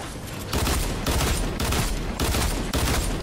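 Shotgun fire in a battle royale video game, loud repeated blasts in quick succession, about five heavy bursts over a few seconds, close and with no talking.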